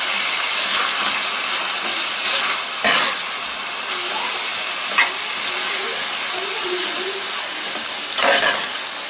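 Alexandrian-style liver fries with freshly added chopped peppers in a hot pan, giving a loud, steady sizzling hiss broken by a few short clacks and scrapes of stirring, with no voices.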